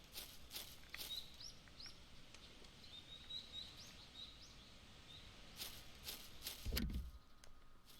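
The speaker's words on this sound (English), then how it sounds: "There are way too many bird sounds to be a coincidence." Faint, scattered video game bird chirps and tweets over a soft ambient hiss, with a brief low thump near the end.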